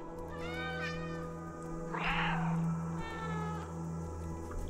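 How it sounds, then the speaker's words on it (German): Cats meow in the video game Stray: a player cat and its feline companions trade a few drawn-out mews and one brighter, strained cry, moderately near over a steady low game hum, with no talk. "Wir mauzen."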